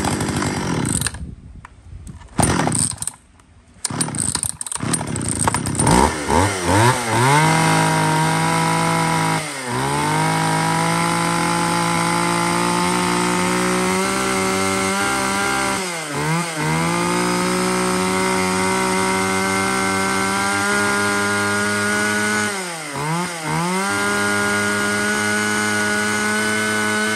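A used Japanese professional felling chainsaw engine sputters through a few starting pulls, then roars loudly and steadily, revving up and down several times with brief dips between.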